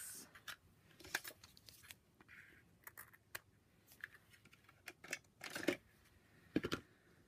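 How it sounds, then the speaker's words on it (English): Scissors snip a piece of Berry Burst ribbon for card making, with several crisp, close cuts and small rustles spaced across a quiet background. "I'm going to take my Berry Burst ribbon, because I said I was doing this in the end colors. I'm going to cut myself a piece."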